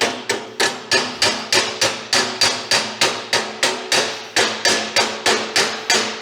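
Hammer chipping slag off a hardfacing stick weld made with a Harbor Freight Titanium Stick 225 welder, about twenty sharp, evenly spaced metallic strikes, close and loud.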